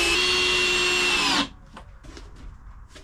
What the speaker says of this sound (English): Now I need to drill this into place, so I'll go ahead and do that